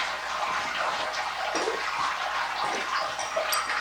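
Wort trickles and splashes steadily from a lifted grain basket during a brew-day mash for a Boston Lager clone, a continuous close watery hiss with no voices.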